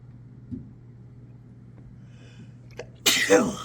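A quiet room with a low hum, then one loud, close sneeze bursting out near the end.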